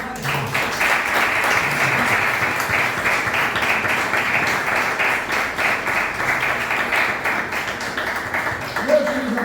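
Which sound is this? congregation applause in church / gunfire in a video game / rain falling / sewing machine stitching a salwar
congregation applause in church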